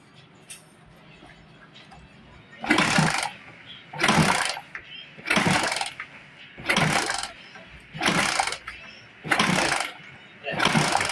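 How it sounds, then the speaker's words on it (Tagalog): Seven repeated bursts of a Suzuki Smash 115 motorcycle with no electrical spark being kick-started, evenly spaced, each a short sputtering crank that fails to catch, with quiet gaps between. "At patadyakan natin yung motor."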